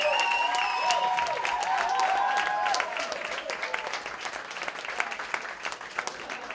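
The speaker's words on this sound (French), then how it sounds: "Applaudissez-les fort, Georges Well, mesdames et messieurs." Audience applause at a cabaret festival evening, dense steady clapping from a full room, strongest at first and thinning slightly toward the end, with a voice faintly over it early on.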